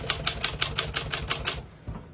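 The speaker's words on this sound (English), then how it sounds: "As you can see, all the keys type nice and none of them skip or stick." A 1958 Smith-Corona Sterling portable typewriter being typed on close up, about ten crisp evenly spaced key strikes with sharp metallic clacks, then a pause and one final strike, with no voices.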